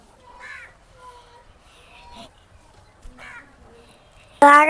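Crows cawing outdoors in repeated harsh calls at moderate distance, with a sudden loud burst of noise at the end; no clear talking.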